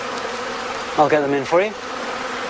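Bees buzzing around hives being tended by a beekeeper at a rural farm, a close, wavering drone that swells twice in short bursts, heard under a person speaking briefly.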